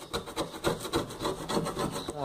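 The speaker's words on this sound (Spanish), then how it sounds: "Ahora lo lijamos." Rapid, rhythmic back-and-forth rubbing strokes, like sandpaper worked by hand over a metal surface, close and even.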